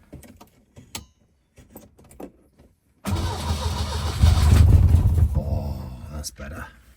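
A 1970 Lancia Flavia Milleotto Berlina with a Solex PAIA 32 carburettor cranks briefly, then catches and starts, its engine roaring loudly before settling into a rough idle, close by.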